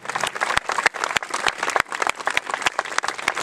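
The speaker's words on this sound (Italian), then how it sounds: "Facciamogli un applauso" An audience at a basketball event opening in Casalvieri, Italy, claps in a dense burst of applause, sharp overlapping hand claps at a steady loud level with no voices.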